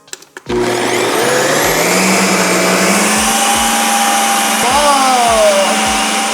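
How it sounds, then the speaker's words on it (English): A 7-in-1 ice cream maker's paddle churns and scrapes through ice cream with a loud, steady motor whir that starts abruptly after a few clicks and runs continuously, with periodic knocks as the paddle scrapes the frozen layer. "the paddle spinny thing is gonna churn down into the ice cream"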